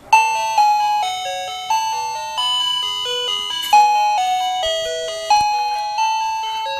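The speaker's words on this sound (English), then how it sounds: "Here's the doorbell. Let's give it a little test here." A doorbell plays a melodic chime, a sequence of clear bell-like tones stepping up and down, loud and close with no voices.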